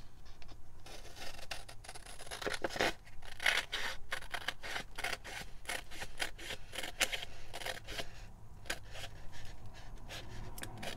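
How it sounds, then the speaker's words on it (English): Scissors cut printed decoupage tissue paper close up, with a rapid string of crisp snips and papery rustles at a steady pace, no talk. "so let's just continue cutting"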